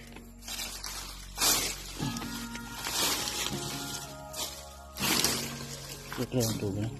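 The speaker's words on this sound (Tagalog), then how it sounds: "Ito ang tubig." Water splashes and pours continuously, loud and near, under a steady hum, with bursts of splashing and someone speaking over it.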